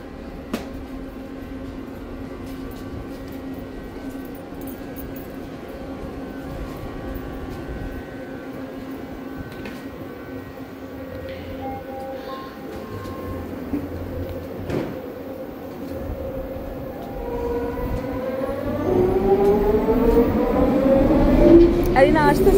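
A Vancouver SkyTrain pulls into a station: a steady low rumble of the approaching train builds over about twenty seconds, swelling with a rising whine and screech as it arrives, while people talk nearby on the platform.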